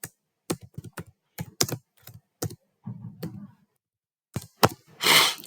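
Keystrokes on a computer keyboard while text is entered into an Excel spreadsheet cell, coming as scattered clicks and short bursts with pauses between them, close and fairly clear, with no talking.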